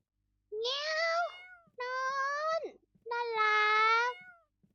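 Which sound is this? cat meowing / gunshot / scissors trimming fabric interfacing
cat meowing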